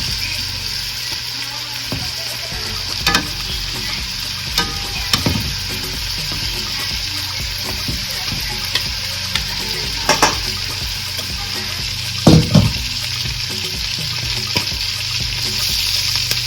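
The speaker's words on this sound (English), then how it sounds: "Go ahead and turn them over and sear them on the other side." Southern-style turkey wings searing in hot oil in a pan, a constant strong sizzle with sporadic sharp crackles and pops as the pieces are turned, no speech.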